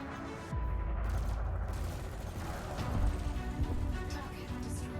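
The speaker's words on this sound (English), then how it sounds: "use your burst lasers to take shields down and then the multi-cannons to destroy the ship" Rapid bursts of burst-laser and multi-cannon fire in Elite Dangerous Odyssey, crackling blasts and booming impacts layered over a dense electronic drone, continuous and loud.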